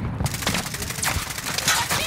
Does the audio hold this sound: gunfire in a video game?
yes